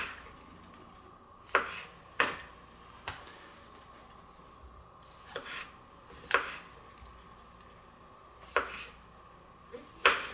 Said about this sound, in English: I'm just going to chop these up